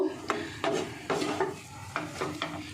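A spoon working through a chickpea kebab mixture as sattu flour is added in a bowl, giving about six soft scraping, rubbing strokes at a steady, unhurried pace, quiet and close.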